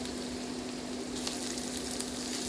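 Sliced carrot and zucchini frying in a pan for a vegetable soup, a steady close sizzle with a brief louder crackle midway, no voices.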